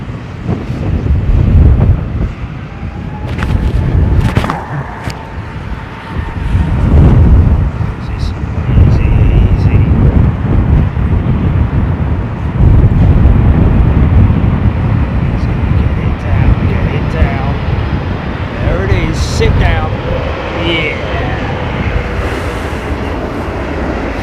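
Aircraft landing in strong gusty wind at London Heathrow Airport, a steady engine roar heard amid heavy wind buffeting on the microphone, with occasional radio-style voices in the background.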